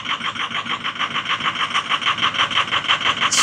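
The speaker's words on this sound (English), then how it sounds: "She's still shaking and misfiring a little bit." Diesel engine idling close by after a sticking-injector repair, still shaking and misfiring slightly. A steady, rhythmic clatter pulses evenly throughout with no voices.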